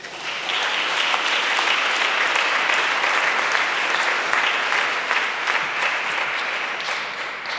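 Sustained audience applause at the European Charlemagne Youth Prize ceremony in Aachen, a loud, dense crowd clapping that builds quickly and holds steady, fading slightly at the end.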